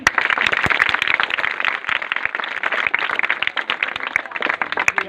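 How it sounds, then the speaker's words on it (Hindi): Loud, vigorous applause from a gathering at an ashram honouring its teachers, dense rapid clapping sustained evenly throughout with sharp individual claps standing out near by. "अपने सभी शिक्षकों के सम्मान में जोरदार ताली हो जाए।"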